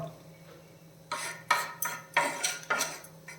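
A utensil stirring and scraping in a clay pot (mun chatti) during sautéing over a medium flame, a series of about six sharp scrapes in an irregular rhythm over a faint low hum.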